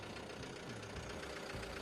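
A Renault Kangoo 1.5 dCi diesel engine idles steadily close by, a low continuous rumble with a faint rhythmic knock and no voices.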